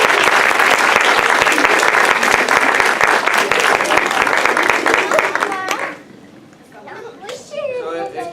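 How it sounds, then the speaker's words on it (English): A film festival audience gives a big round of applause for the students, loud and dense clapping for about six seconds that cuts off abruptly, followed by murmured chatter and light laughter. "We get one more big round of applause for our students."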